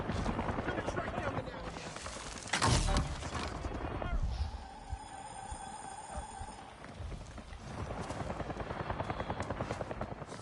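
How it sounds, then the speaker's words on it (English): A helicopter lands in the video game Avatar Frontiers of Pandora, its rotor rumble running under game effects, with a loud burst near the start and a steady wash later. "Hear the helicopter landing now as well."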